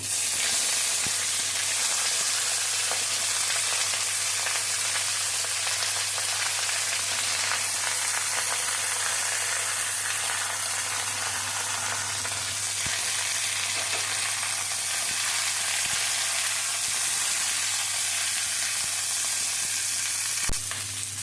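Cut cauliflower fries in hot oil in a pan with a dense, continuous sizzle and crackle, close and fairly loud, holding steady without speech.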